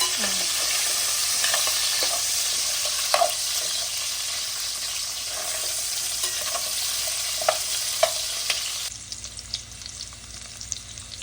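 Drumsticks frying in a pan for paneer curry, a steady close sizzle with occasional stirring scrapes and clinks, the frying noise dropping away near the end as quieter taps and clatter remain.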